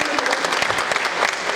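Brief burst of steady crowd clapping at a Mataji Ki Chowki devotional event, dense and sustained, with a hint of voices mixed in.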